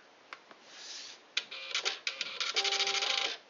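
A Citizen CL-S621 label printer feeding its ribbon, close and clear: a few sharp clicks, then a burst of rapid mechanical whirring and stepping, ending in a short steady motor buzz.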